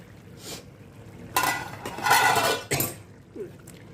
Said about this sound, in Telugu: ఇప్పుడు ఒకసారి మూత ఓపెన్ చేసుకొని చూద్దామండి కూర ఎంతవరకు వచ్చిందన్నది